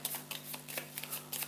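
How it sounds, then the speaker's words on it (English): A deck of board game cards for Dawn of the Zeds is shuffled close by, producing quick papery riffles and soft flicking bursts in an irregular rhythm against a faint steady hum. "Shuffle them. Choose one face down for the bottom of the deck."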